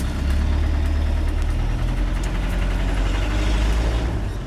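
A Land Rover 90 300TDi soft top with sides up idles nearby, its diesel engine giving a steady, loud rumbling drone with a knocking texture that holds without a break.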